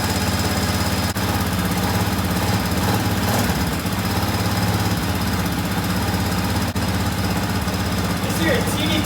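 An Arctic Cat 400 ATV engine, freshly rebuilt, idles in a steady, close, rumbling putter with a faint ticking of the valves, running unbroken throughout.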